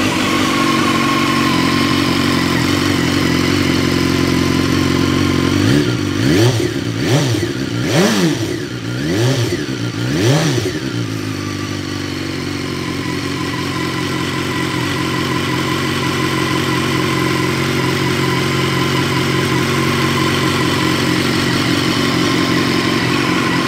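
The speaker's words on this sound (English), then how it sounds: "So this is a cold startup." A 2016 BMW S1000R motorcycle cold-starts with a few sharp revs of the engine, then settles into a steady, loud idle, heard close up with no talking.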